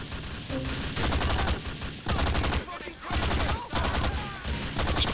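Sustained automatic gunfire in GTA 4 The Ballad of Gay Tony, loud dense bursts of rapid shots broken by brief pauses, with a voice talking faintly underneath.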